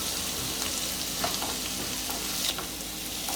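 Potatoes fry in a pan with a continuous, even sizzle at moderate volume and a few faint stirring taps, with no talking.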